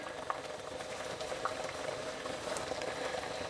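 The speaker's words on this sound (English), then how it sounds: "then let it continue boiling maybe for another 10 minutes" Mexican-style meatball soup boiling steadily in a pot, a soft dense bubbling and gentle popping that stays even and close, with no one speaking.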